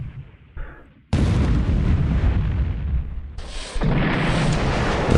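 Medium and light caliber naval guns strike battleships in a video game: heavy booming blasts and a dense roaring rumble, with a sharp loud onset after a quieter opening and a second surge near the end.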